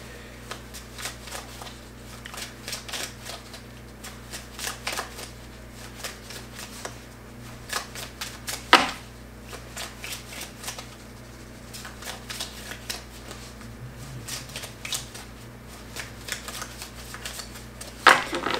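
Tarot cards shuffled by hand in a quiet room, a long run of soft, rapid riffling bursts that repeat with short pauses, close and fairly faint, with no talking.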